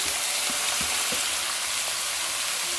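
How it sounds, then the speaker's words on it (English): Seasoned little steaks fry in a pan with a steady, close, hissing sizzle, a few faint pops and clicks underneath, and no talking. "We're gonna fry the little steaks that we have seasoned there for a while."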